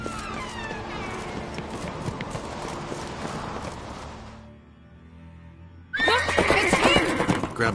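A horse whinnies loudly over rapid hoofbeats in The Witcher 3 video game, the sound dips briefly, then another sharp neigh bursts out close by with galloping clatter.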